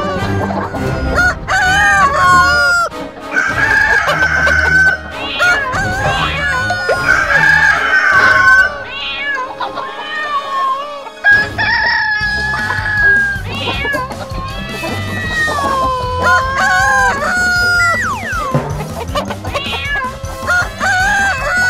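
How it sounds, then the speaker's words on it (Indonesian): Several roosters crow loudly and repeatedly in a chicken coop, overlapping one another, along with clucking hens close by. "Jangan-jangan itu suara kandang ayam."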